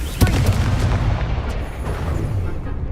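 A Confringo fire spell from Hogwarts Legacy bursts with a sharp, loud explosive crack, then a rumbling boom decays under ongoing combat noise, fairly close and alone without talk.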